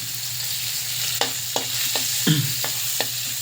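Ginger sizzling steadily in a hot pan for bangus with black beans, a continuous close frying hiss broken by several sharp scrapes and clicks of a utensil stirring against the pan.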